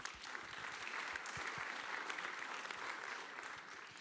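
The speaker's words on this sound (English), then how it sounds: "Round of applause." An audience at a maritime conference summit applauds, a dense continuous clapping that holds steady and fairly even from start to finish, with no voices over it.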